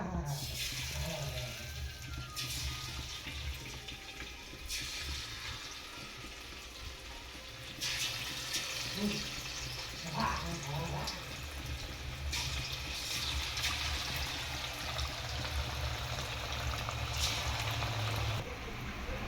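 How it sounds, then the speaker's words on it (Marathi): Chicken pieces deep-frying in hot oil for chicken 65 pakoda, a steady, fairly quiet bubbling hiss that holds throughout, faint clinks and a low voice occasionally over it. "बघू शकता आपण आता तेलामध्ये हे चिकनचे पीस फ्राय होण्यासाठी किंवा तळण्यासाठी आपण ठेवलेले आहेत"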